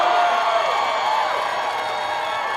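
A large political rally crowd in Asheville, North Carolina cheers loudly and continuously, a dense wash of voices and whoops that holds steady before easing slightly.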